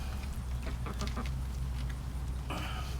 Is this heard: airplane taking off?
no